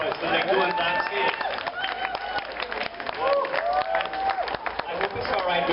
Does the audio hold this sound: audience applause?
yes